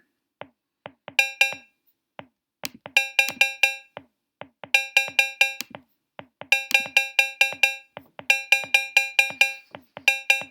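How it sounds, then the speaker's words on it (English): Bright TR-808 drum machine cowbell strikes play a repeating syncopated offbeat pattern with gaps, over soft low ticks, crisp and up front. "Well, I'm adding cowbell now, and I'll maybe add a little syncopation here"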